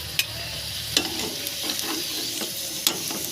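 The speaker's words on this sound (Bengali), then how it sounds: "এইভাবে করে আমি বাকিগুলা আলু ভেজে নেব।" Potatoes frying in a pan give a steady close sizzle, broken by a few sharp clinks and scrapes as they are stirred.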